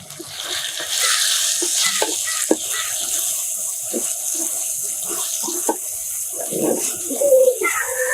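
Masala frying with tomatoes in a pan, a steady bright sizzle broken by repeated scrapes and taps as it is stirred, close and fairly loud.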